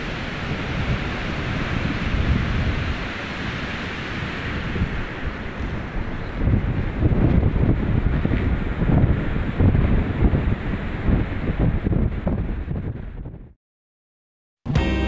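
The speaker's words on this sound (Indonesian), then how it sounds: "terlihat jelas deburan ombak dan gemuruh anginnya sangat kencang sekali ya bosku" Loud ocean surf rolls and crashes continuously at Teluk Penyu beach, Cilacap, mixed with strong gusting wind roaring over the microphone, before cutting out abruptly near the end.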